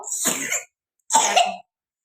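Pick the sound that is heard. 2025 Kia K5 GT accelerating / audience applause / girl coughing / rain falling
girl coughing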